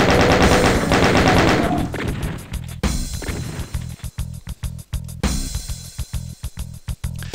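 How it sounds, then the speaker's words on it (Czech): Rapid bursts of chaingun fire from Doom II, a rotary machine gun rattling loud and close in repeated volleys with short pauses between them, and sharp impact thuds mixed in. "Tak a už máme rotační kulomet,"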